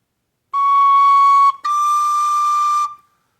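A tin whistle plays two sustained notes, the open third note and then the nearly fully fingered fourth note, with a short break between them. Both tones are clear, steady and close, with no other sound.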